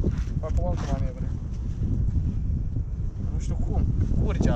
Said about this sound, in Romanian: Bate vântul, bă.